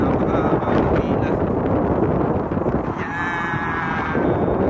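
Very strong wind roars steadily into the microphone on the coast at Yehliu Geopark in Taiwan, a loud continuous buffeting rush that covers the whole stretch.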